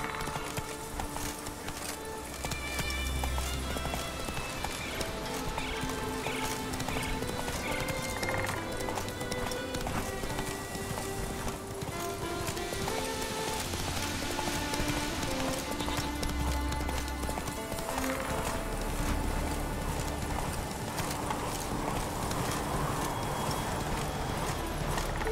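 Roach the horse gallops in The Witcher 3, steady clip-clop hoofbeats running throughout with occasional snorts and whinnies over game music.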